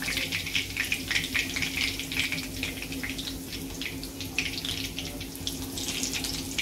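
Chicken 65 pieces fry in oil over a low flame, producing a steady, even bubbling sizzle that holds at a moderate level with no pauses.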